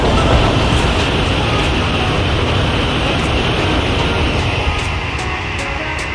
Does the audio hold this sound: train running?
yes